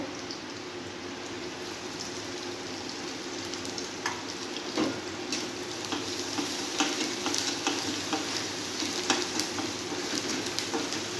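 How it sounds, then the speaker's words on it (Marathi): Garlic-ginger paste frying in a pan after onions for a paneer capsicum tikka, a steady close sizzle with occasional stirring scrapes and small pops, no talking. "आता आपले लसूण अद्रकचं पेस्ट चांगली तळून तळून घेतलेली आहे"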